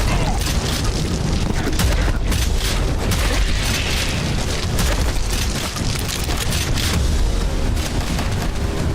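Sniper rifles fire in a shooting video game amid a dense, loud barrage of booms and gunfire that rumbles continuously without a break.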